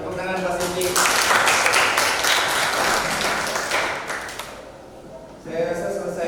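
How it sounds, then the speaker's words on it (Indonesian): Applause for Pak Silvi closes a classroom lesson: a dense, loud spell of clapping that swells, then fades after a few seconds, with voices talking around it. "tepuk tangan Pak Silvi"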